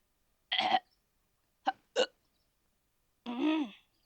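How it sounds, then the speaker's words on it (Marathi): Several sharp hiccups spaced over a few seconds, a short burst, two quick spasms close together, then a longer voiced one, each loud and close against silence. "मला लागली कुणाची उचकी"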